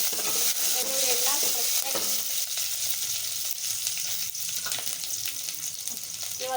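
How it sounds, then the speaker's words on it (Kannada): Curry leaves and garlic fry in a pan for a raw mango sambar, giving a loud, continuous close-up sizzle with scraping stir strokes throughout and no talking. "ಸ್ವಲ್ಪ ಕರಿಬೇವಿನ ಸೊಪ್ಪು, ಚೆನ್ನಾಗಿ ಬೇಯಿಸ್ಕೊಂಡ್ಬಿಡೋಣ."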